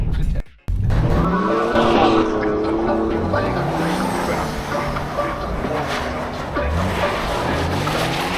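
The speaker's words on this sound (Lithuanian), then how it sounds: "Pabandyk važiuoti tiesiai, užmesti ir tada gazuoti." A car drifting on a Christmas-decorated course, with a loud revving engine and long squealing, skidding tires that sweep up and down, briefly cut near the start, then continuing with voices talking over it.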